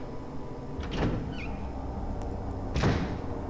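A door in a horror video game, heard as two heavy thuds with a creaking sweep, one near the start and a louder one near the end, over a low, droning ambient background.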